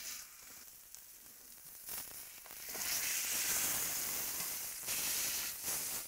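Meat sears in a hot pan for a loaded baked potato dish, giving a steady close sizzle and hiss that swells louder partway through.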